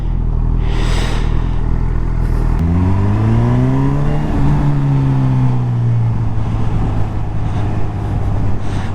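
A Honda CB1000R motorcycle with an Acrapovic aftermarket exhaust idles low, then is revved up and eased back in a rising and falling engine sweep, close and loud, with no talking.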